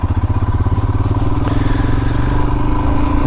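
Dirt bike ridden through wet terrain, its engine chugging loud and close in a steady rhythmic pulse, with clattering and scraping from the ground and pegs and a slight rise in revs.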